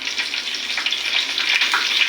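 Cardamom, cinnamon, cloves and three or four bay leaves sizzle in hot oil, giving a loud, close, continuous crackling fry with small bursts of spatter and no voices.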